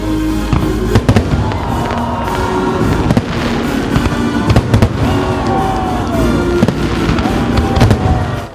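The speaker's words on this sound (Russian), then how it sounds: "Завершился праздник красочным салютом." Fireworks display closing an outdoor holiday celebration, loud crackling bursts and sharp bangs popping continuously with whistling trails, a crowd faintly audible underneath.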